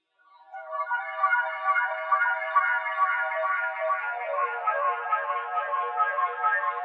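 Reversed synth pad pitched up a long way, swelling in from silence and then holding as a bright, shimmering sustained texture for several seconds, with no voices.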